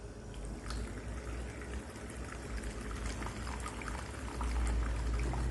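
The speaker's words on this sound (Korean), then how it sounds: "일단 물소리를 주면서" Water pours and splashes continuously up close during a head spa treatment, a steady liquid rush that swells slightly louder toward the end, with no voices.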